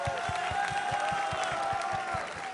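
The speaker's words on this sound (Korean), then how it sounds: "우리 하나님 앞에 박수 한번 보내드립니다." A congregation claps during a Korean military church worship service at an army training center, giving a steady, rhythmic beat of hand claps under singing or sustained voices, moderately loud and evenly paced.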